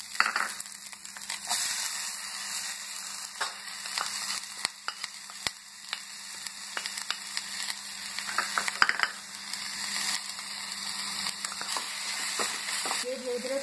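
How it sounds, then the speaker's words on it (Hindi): Cumin, tomato and onion frying in medium-hot oil for chole-style pani puri filling, a steady low sizzle running throughout with scattered clicks and scrapes from stirring. "ये धीरे धीरे फ्राई होते जा रहे हैं"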